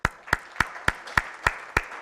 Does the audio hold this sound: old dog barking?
no